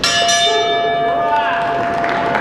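A boxing ring bell clangs to warn of ten seconds left in a round at an international invitational semifinal bout. It gives a bright ringing strike that decays over a couple of seconds under excited arena noise and a commentator's voice.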